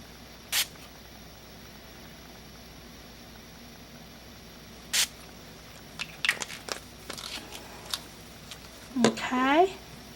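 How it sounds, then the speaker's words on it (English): Two quick spritzes from a water spray bottle onto card stock being given a distressed, aged look, sharp short hisses well apart, followed by soft handling rustles and squeaks. "I'm gonna spritz it again with water"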